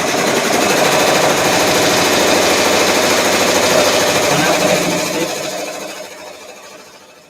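A Brother embroidery machine stitching an appliqué, a loud, steady, rapid mechanical chatter that runs continuously and then fades toward the end.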